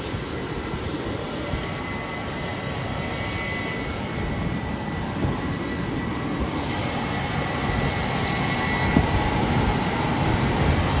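Steady airliner engine roar heard from inside the cabin, a loud continuous broadband drone that swells slightly over time, with no talking.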